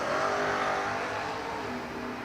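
A Camaro drag racing car accelerating down a drag strip at a Stars and Stripes New Year event gives a loud, sustained engine roar that eases slightly toward the end, with no talk.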